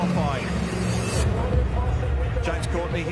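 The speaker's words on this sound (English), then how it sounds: "Cars rolling out now in preparation for Armour All qualifying." V8 Supercars roll out of the pit garage for qualifying, a low engine rumble and passing car noise running under continuous speech.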